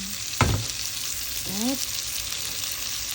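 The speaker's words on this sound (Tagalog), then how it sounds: "Ito yan ang aking nagisa." Food sautés in a pan with a continuous close sizzle and crackle, while a brief knock sounds early on and a short spoken word is heard partway through.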